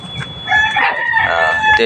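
A rooster crows loudly and close by, one long drawn-out call that fills the whole moment.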